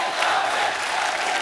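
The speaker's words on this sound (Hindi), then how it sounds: "जॉन और सोनाक्षी के लिए जोरदार तालियां।" A television comedy show's studio audience applauds and cheers, a loud continuous wash of clapping and crowd noise lasting about a second and a half.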